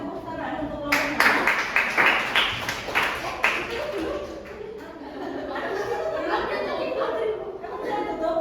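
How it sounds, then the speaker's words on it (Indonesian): A classroom applauds a student group after their presentation, with a burst of clapping that fades within a few seconds into chatter, chuckles and talking voices. "kita kasih tepuk tangan untuk kelompok 6"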